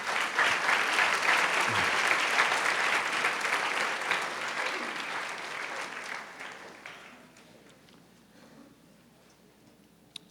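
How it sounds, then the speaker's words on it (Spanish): Church congregation applauding the fathers, a dense, sustained burst of clapping that fades out over several seconds into near quiet. "Un aplauso para los papás."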